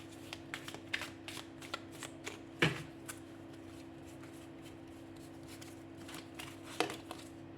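Tarot cards are shuffled, handled and laid out on a table. Close, crisp card flicks and slaps arrive in quick irregular bursts, with one louder slap partway through, over a low steady hum and no talking.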